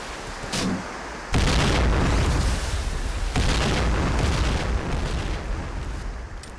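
Bomb explosions in a video game: two heavy booms land a couple of seconds apart, each followed by a loud, rumbling roar that slowly fades, with no voices.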